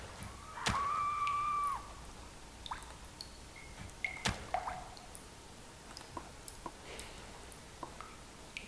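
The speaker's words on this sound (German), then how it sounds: "Irgendwo ein Tropfen." Sparse water drips fall in the video game Full Pipe, small wet plinks and clicks scattered at irregular intervals over a faint ambient background, with one longer sustained tone early on.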